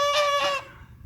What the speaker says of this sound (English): that goose is so loud.